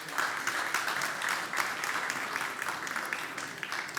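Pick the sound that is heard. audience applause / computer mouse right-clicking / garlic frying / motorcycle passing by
audience applause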